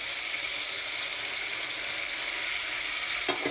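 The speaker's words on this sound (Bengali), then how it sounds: "ঝোল কিন্তু আমার ফুটতে শুরু করে দিয়েছে।" Magur fish curry gravy coming to a boil in a pan, a steady close hiss and sizzle with a faint clink near the end.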